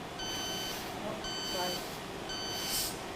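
An electronic refrigerant leak detector beeps three times in a slow, even rhythm, thin high tones over a faint background hiss.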